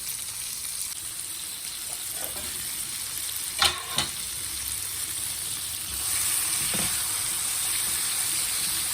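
Ridge gourd pieces with salt and turmeric cook over a medium flame, giving a steady soft sizzle with a couple of sharp utensil clinks near the middle, no talking.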